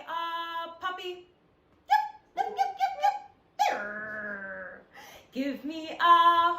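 A human voice imitates a puppy with a series of short yips, whimpers and one longer whine, separated by brief pauses, up close and clear.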